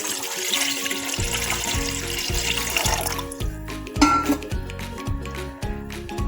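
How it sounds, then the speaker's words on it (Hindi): Four cups of water splash and run into a pot for chicken soup, a bright, rushing pour that settles into a rhythmic, repeating gurgle with a light clink of the vessel; no voices. "पानी ऐड करेंगे।"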